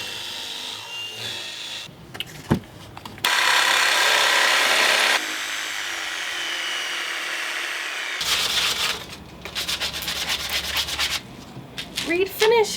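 Wood sanding in a camper van conversion, harsh scratchy rubbing strokes in bursts, with a loud steady stretch in the middle and irregular rasping near the end.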